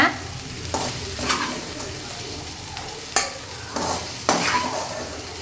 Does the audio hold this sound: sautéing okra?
yes